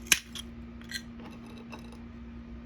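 Scissors snipping through material for a mosaic, with one sharp close cut near the start and a few softer snips after, faint over a steady low hum.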